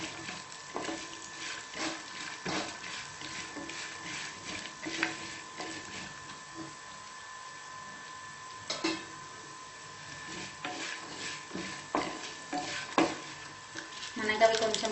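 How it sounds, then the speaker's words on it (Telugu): Half a spoon of mustard seeds fry in hot oil over a low flame for sambar, a faint steady sizzle broken by scattered pops and spoon-against-pan stirring clicks. "1/2 స్పూన్ ఆవాలు వేసి స్లో ఫ్లేమ్లో మంచిగా కలర్ కొంచెం చేంజ్ అయ్యి స్మైల్ మంచిగా వచ్చే వరకు ఫ్రై చేసుకోవాలి."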